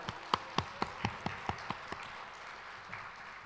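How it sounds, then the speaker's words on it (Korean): Faint, evenly spaced claps ring out in a Korean church service, about eight crisp beats in a regular rhythm that soften and thin out into quiet. "우리 모든 영광은 박수로 하나님께 올려드립니다"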